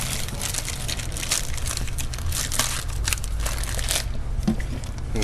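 Plastic packaging for a 110cc ATV battery is cut open, a close, busy run of crinkling, crackling and snipping with sharp bursts throughout and no talking.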